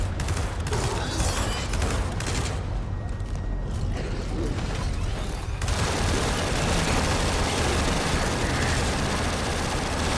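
Automated turrets fire continuously in the game Gears of War 4, a dense, roaring wall of gunfire and blasts that stays loud throughout, with a voice speaking over the battle.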